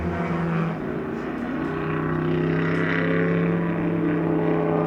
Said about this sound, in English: The Ferrari just pulls away under the grunt